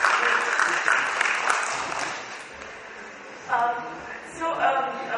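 A leadership-training audience claps for themselves, a dense round of applause that thins out, with a few louder bursts of clapping near the end.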